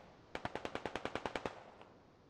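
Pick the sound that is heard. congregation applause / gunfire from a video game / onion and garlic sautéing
gunfire from a video game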